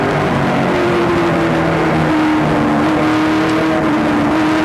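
NASCAR stock car at the 2008 Coke Zero 200 revving its throttle off a corner, a loud sustained engine drone with steady rising and falling harmonics blended with other cars on track.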